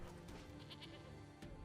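A goat bleat from the MTG Arena card game sounds as a single wavering, nasal cry, faint and alone, with no talk.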